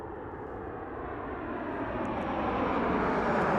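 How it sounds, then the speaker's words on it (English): Southwest Airlines jet coming in at Las Vegas Harry Reid airport, a steady broad engine roar that swells gradually louder as it approaches, with no talk. "And we have an incoming flight. Oh yes, Southwest Aerolíneas."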